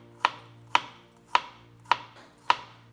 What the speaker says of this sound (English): Mince up the garlic finely